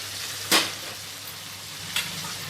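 Water poured into a hot frying pan of cooking food sets off a steady, close sizzle, with two sharper hissing bursts as the water hits the pan and no talking.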